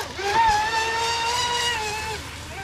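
A ProBoat Impulse 32 RC speedboat running at half throttle, its high electric motor whine holding steady with slight pitch wobbles, loud and close.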